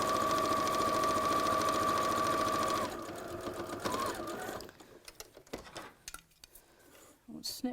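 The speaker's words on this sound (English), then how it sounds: "just sew straight down" Domestic sewing machine stitching a straight seam near the fabric edge for a Christmas make, running steadily and loudly for about three seconds before stopping, followed by faint handling clatter.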